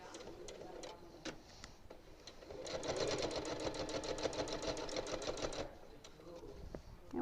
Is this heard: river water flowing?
no